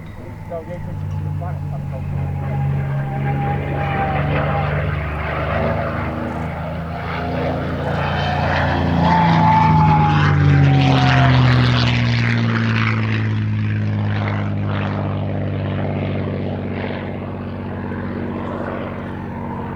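A P-51D Mustang with a Packard-built Merlin engine flies overhead at an air show, its propeller drone steady and loud with a rising and falling pitch as it passes, and a voice talks over it.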